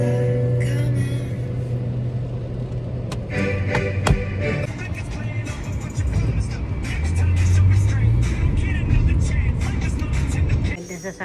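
A red car driving past near a market, its engine rising and swelling as it goes by, loud and close among steady street noise.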